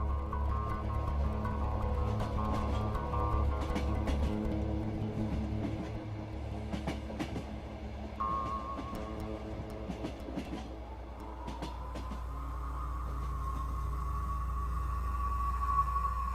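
A train rumbles along the rails with a steady low drone, rhythmic clacking and squealing wheels, holding a constant, fairly close presence throughout.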